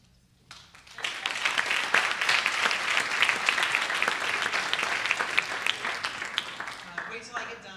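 A school assembly audience breaks into applause that swells within about a second and holds as dense, steady clapping before tapering off, with murmured voices underneath.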